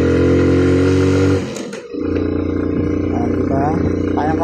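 A Suzuki Smash motorcycle climbs a steep uphill road, its engine droning loudly with strong harmonics, dipping briefly during a gear change before rising again under a rider's voice.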